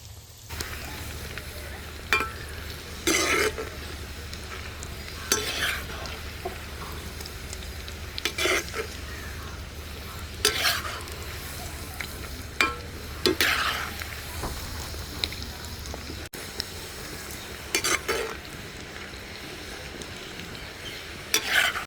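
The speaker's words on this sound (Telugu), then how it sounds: "కొంచెం కొంచెంగా వేసుకొని 2 సార్లుగా వేపుకుందామండి." Batches of street-style chicken pakoda fry in hot oil in a kadai with a steady crackling sizzle, broken every few seconds by scraping stirs of a spoon against the pan.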